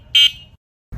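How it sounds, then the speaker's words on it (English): Horn of an Emove Cruiser electric scooter: one short, loud, high electronic beep, a brief low rumble that stops, then a second rumble starting at the end. "This horn is the loudest I've ever heard on an electric scooter."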